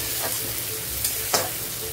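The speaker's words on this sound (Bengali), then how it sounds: "ব্রাউন করে ভেজে নেবো পেঁয়াজ" Onion and green chili browning in hot oil crackle with a continuous sizzle, broken by a couple of short stirring scrapes and clinks.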